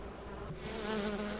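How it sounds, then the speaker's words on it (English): A swarm of bees buzzes in the video game Bridge to Another World 5, a continuous droning hum that swells slightly louder partway through, heard alone without talk. "Whoa, that's a lot of bees!"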